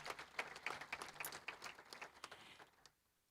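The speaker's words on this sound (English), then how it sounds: "We'll give her a round of applause." Scattered applause from an audience at an event, fairly faint and patchy with individual claps standing out, tapering off and stopping near the end.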